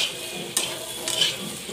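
Bottle gourd and potato pieces fry in oil with a soft sizzle, broken by a couple of sharp scraping stirs of a spatula against the pan, close and fairly quiet.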